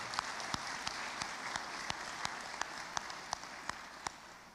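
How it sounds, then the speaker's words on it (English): Audience applause for college finalists at a student achievement celebration, a steady dense wash of clapping with scattered sharper individual claps, sustained at moderate level throughout. "Please join me in recognizing each of these outstanding finalists with one more round of applause."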